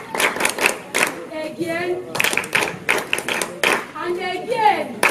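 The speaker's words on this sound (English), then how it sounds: "Clap for yourselves." Children in a classroom clap their hands in several quick bursts of rhythmic claps, mixed with an adult's and children's voices speaking in between.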